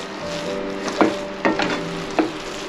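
Coconut sweet mixture with mawa, sugar syrup and ghee stirred in a pan, with a few distinct scraping strokes of the spoon over a soft, steady background hum; no talking.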